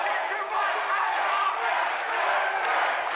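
Packed crowd at the Winter Gardens roaring for kickboxer Ben McGonigle during a KFN7 bout, a dense continuous wash of cheering heard at a distance with a commentator's voice running over it.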